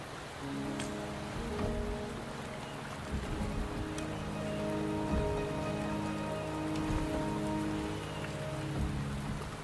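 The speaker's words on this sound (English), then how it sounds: "The rain is subsiding, and the sky will soon clear." Steady rainfall in the video game Wuthering Waves patters on surfaces as a constant, moderately quiet hiss, with soft musical tones sustained over it and no one speaking.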